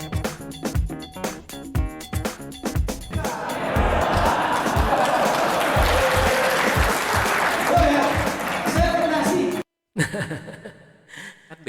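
Audience applause and lively crowd noise from a humorous performance, a sustained burst of clapping that swells for several seconds, with scattered claps and thumps before it and a brief cutoff near the end.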